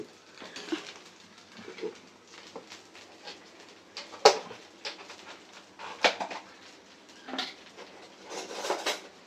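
A spoon scraping and clinking in a cooking pan, a series of light metallic taps and scrapes at irregular intervals with a few sharper clinks, close and fairly quiet.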